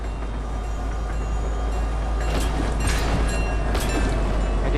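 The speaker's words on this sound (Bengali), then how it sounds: "আমি ট্রেনের সামনে দাঁড়িয়ে সুইসাইড করি।" A train thunders past in the video game Fortnite, a loud continuous roar of rolling wagons with rising surges of rattle, no voices over it.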